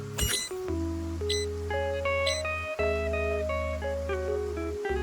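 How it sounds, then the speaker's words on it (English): A steady sequence of clear electronic chime tones from a hologram device finishing a reboot in the game Love and Deepspace, sustained and overlapping in a rising and falling melodic pattern, bright and close with no voices. "It's the sound of the hologram device completing its reboot."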